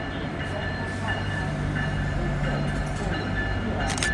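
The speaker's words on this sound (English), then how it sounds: "Alright, so this is the Crescent Train 20," Amtrak's Crescent Train 20 rolls through Metropark station with a steady, loud rumble and a faint tonal whine, with wheel clatter near the end.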